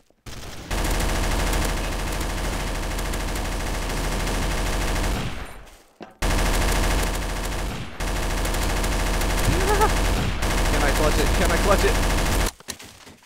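Sustained rapid automatic gunfire in the game Trouble in Terrorist Town, loud and close, in long bursts with a brief gap, while a player speaks briefly over it.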